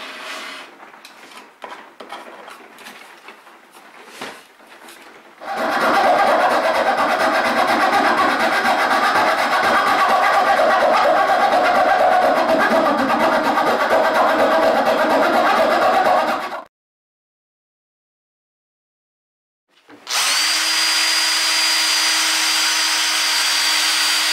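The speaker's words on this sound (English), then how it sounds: "I've just drilled a relief hole at the bottom of the saw cut" Power drill boring a relief hole in a wooden table leg at the bottom of a saw cut, a loud steady whir lasting about eleven seconds after faint handling sounds, then silence and a second motor run.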